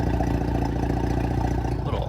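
Tuned Audi S4 engine idling after parking, a steady, close, loud low burble with an even pulsing rhythm throughout.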